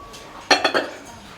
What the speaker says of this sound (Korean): 반찬 그릇, 밥그릇은 이렇게 셀렉하셨는데